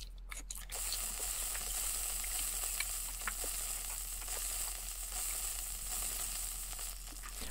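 Meat sizzling on a grill in the game Yakiniku Simulation, a steady crackling fry with small pops throughout, fairly quiet and with no speech.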